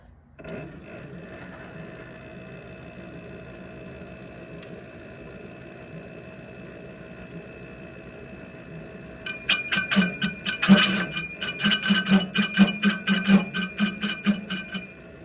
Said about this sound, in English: I'm gonna scratch this and spin this lathe and get the bolt circle